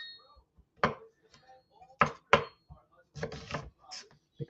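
A kitchen knife chops onions on a board in a handful of sharp, irregular strikes, close and clear, with quiet pauses between the cuts.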